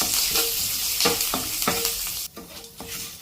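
Chana dal, green chillies and curry leaves frying in a pan for a village-style chutney, with steady loud sizzling broken by repeated stirring scrapes and a brief dip when the hiss settles.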